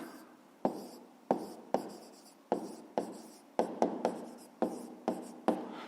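Close pen scratching on paper while solving a math exercise, about a dozen brisk, evenly spaced strokes in steady succession, quiet and alone.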